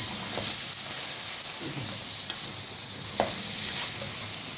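Okra sizzling as it is stir-fried in a pan, a loud steady hiss filling the whole stretch with occasional soft scrapes from stirring, close up and without talk.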